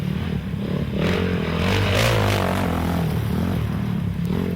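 A two-stroke motorcycle engine roars through a muddy motocross race, loud and close, its buzzing pitch rising and falling steadily as it holds the throttle.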